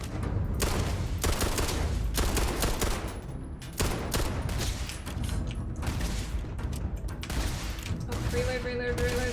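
Rapid bursts of automatic gunfire and heavy blasts in Starfield space combat against pirates, loud and nearly continuous with short pauses, ending in electronic beeps.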